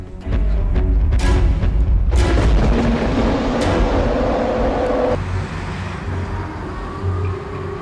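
A car pulling away fast as a family flees, its engine a heavy, loud low rumble that swells with booming thuds over the first seconds and then settles into a steadier drone.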